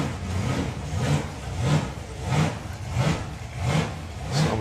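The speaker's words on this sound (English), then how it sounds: "You can just hear that car hunting for fuel" A hot rod drag racing car engine hunting for fuel, surging and dipping in a steady rhythmic revving cycle about once a second, loud and close, with no talk.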